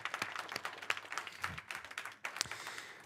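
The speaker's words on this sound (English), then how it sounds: "Maybe let's give them another warm round of applause" Audience applause at an innovation challenge event, fairly faint, a few seconds of scattered hand claps from a modest crowd, with no talking over it.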